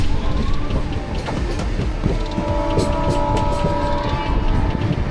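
A Mumbai local train picking up speed, with steady loud rumble and clatter of the wagons on the rails, a continuous near roar throughout and some higher tonal whines from the motors rising in the middle.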